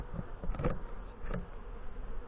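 Honey bees hum steadily at an open hive during a late-September inspection, a continuous close buzz with a couple of brief louder swells, no voices.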